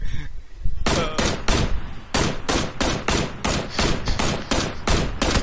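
Gunfire in PUBG: after a brief quieter opening, loud, close bursts of rapid shots ring out in a steady, evenly spaced automatic rhythm lasting to the end.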